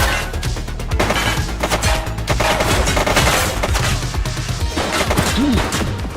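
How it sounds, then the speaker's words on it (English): Rapid gunfire in the police video game The Precinct, dense and loud volleys of shots and impacts running continuously throughout. "She's shooting!"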